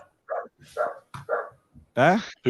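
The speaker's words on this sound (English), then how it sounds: "I just heard some dogs barking." A dog barks three times in quick succession, short sharp yaps spaced evenly, followed by a louder drawn-out bark or voice-like burst at the end.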